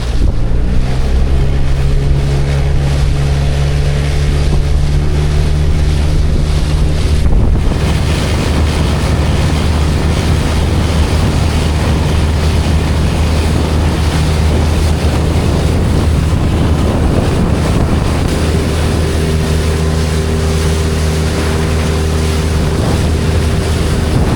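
A Bass Pro fishing boat pounds through choppy water, with a loud, continuous engine drone mixed with wind buffeting the microphone and the rush and slap of waves against the hull, and no talking.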